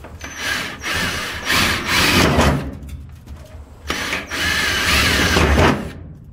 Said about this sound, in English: I'm just drilling around in a circle.